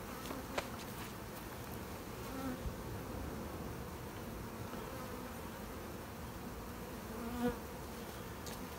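Italian honey bees from a freshly installed package hum in a steady, dense drone, faint and close, with a couple of brief sharper buzzes from single bees passing near.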